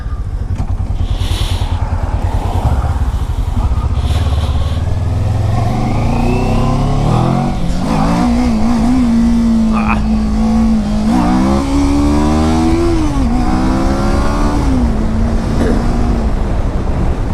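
A motorcycle engine, heard while riding, roars loud and close throughout, with its pitch climbing and falling as the rider revs and shifts, and some wind noise underneath.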